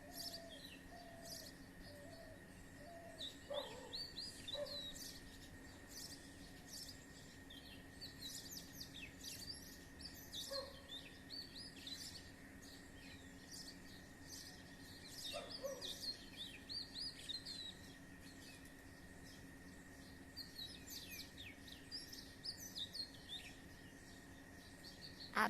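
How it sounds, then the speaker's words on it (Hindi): Birds chirp and tweet from tall tree branches at dawn, with repeated bright calls scattered throughout and occasional dove-like coos, set against a steady faint insect hum in the background. "मैं ये वीडियो आपके लिए इसलिए बना रही हूँ ताकि आपको चिड़ियों का चहचहाना सुना सकूँ।"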